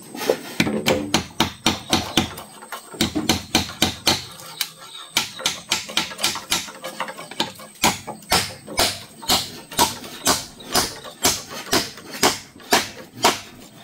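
Hammer blows drive nails while a homestay hut is built, a long run of sharp, evenly spaced impacts close by with brief pauses between bursts.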